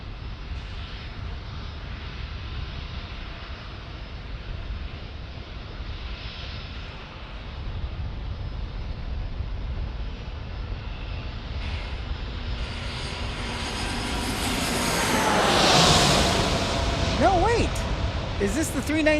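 American Airlines Airbus A319 jet arriving at San Diego airport at night, a broad roar that builds gradually and peaks loudly near the end with a rising whine, with people talking over it.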